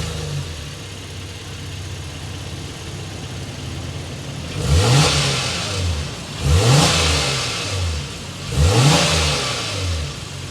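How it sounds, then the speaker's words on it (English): A 2023 Honda Pilot Touring SUV idles quietly after starting, then its exhaust roars through three sharp revs in succession, each swelling up and falling back to idle, close and loud with no talking. "Let's go inside, start it up, so you can hear that exhaust though"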